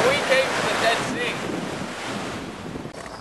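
Waves wash onto the Dead Sea shore in a continuous rushing surf, heavily mixed with gusting wind buffeting the microphone, with no clear talking.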